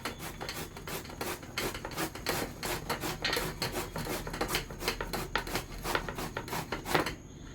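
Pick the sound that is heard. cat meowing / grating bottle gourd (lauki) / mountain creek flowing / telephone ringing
grating bottle gourd (lauki)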